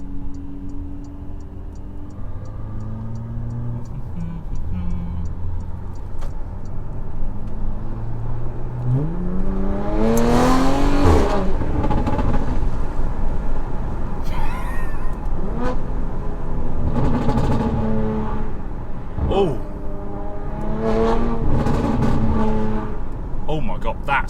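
Porsche 718 Boxster GTS with a new exhaust accelerating hard on a carriageway, engine note rising through the gears with loud rasping bursts and pops, heard from inside the car over a driver's voice.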